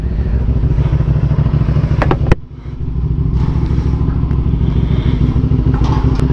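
A BMW S1000R motorcycle engine idles while warming up, a loud, deep, rapid throb close by, with a brief sharp crackle and dip midway before the steady idle resumes.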